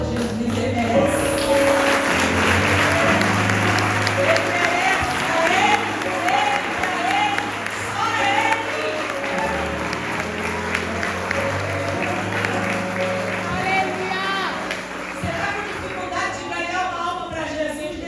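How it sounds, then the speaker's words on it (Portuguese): Congregation in a church clapping continuously and loudly for the full stretch, a dense wash of hand claps mixed with raised voices and cheering from the crowd. "Aplauda Jesus, ele merece."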